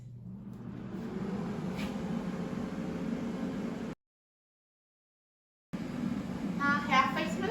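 An air fryer set to 360 degrees Fahrenheit runs with a steady, close whirring fan hum, broken by an abrupt silent gap before the hum resumes, with a brief voice near the end.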